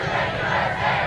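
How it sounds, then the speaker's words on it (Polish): A crowd at an airport shouts a loud, sustained welcome to the Pope in the United States, a brief dense burst of massed voices close by. "Słychać było okrzyki: papieżu, witamy cię w Stanach Zjednoczonych."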